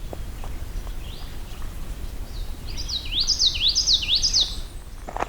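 Near and clear, a common yellowthroat delivers a run of about four quick rolling phrases from a lily-pad wetland, rising out of low ambient noise after a quiet start.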